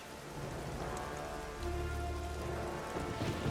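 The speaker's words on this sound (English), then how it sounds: "it's a rainy day in Freeport" Steady rain falling in Freeport in EverQuest II, a dense continuous patter on surfaces with a low rumble joining partway through, even and unbroken, with no talk.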